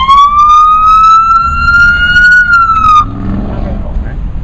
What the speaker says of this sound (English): not only do you want the lights, but you will get the siren as well